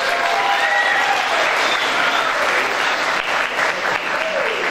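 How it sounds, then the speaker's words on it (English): A campus crowd gives a big round of applause for a visiting governor at a mariachi program event, loud sustained clapping with faint cheering carrying through. "Let's give him another big round of applause"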